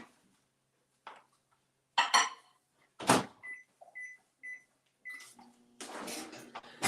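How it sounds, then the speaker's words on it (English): A kitchen microwave oven is set to heat almonds for 90 seconds. The door thuds shut, several short keypad beeps follow, and then a steady low humming starts up nearby. "All right, 90 seconds in the microwave."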